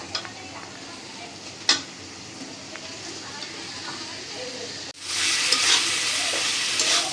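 Eggs tipped into a pan of ginger-garlic masala and stirred: quieter sizzling with a sharp knock early on, then a sudden loud burst of frying that continues hissing strongly to the end.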